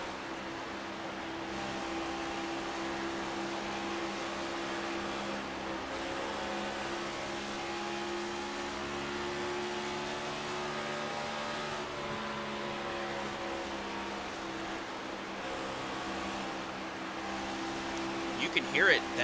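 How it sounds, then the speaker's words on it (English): Race car engine in iRacing on a Kansas Speedway oval, droning steadily as the car rides the top lane, easing off and back onto the throttle with gentle pitch swells, continuous and fairly loud throughout. "You can hear it, that off-throttle time for that one car as he rides that top lane"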